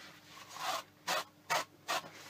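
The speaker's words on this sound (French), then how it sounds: "Donc là je brosse." A brush is pulled through hair before henna coloring, one longer soft stroke followed by three quick, evenly spaced brushing swishes, close and quiet, no voices.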